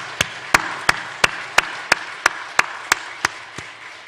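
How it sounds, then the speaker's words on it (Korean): A church congregation claps together in steady unison at a New Year's Eve worship service, giving about eleven sharp, evenly spaced claps that are loud and close, with no talking. "모든 분들 하나님께 영광 박수 같이 돌리겠습니다."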